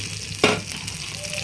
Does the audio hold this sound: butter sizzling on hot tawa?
yes